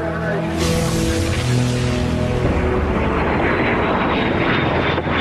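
Lockheed F-117 Nighthawk jet aircraft flying past, a loud steady engine roar that shifts in tone partway through and holds, heard alone.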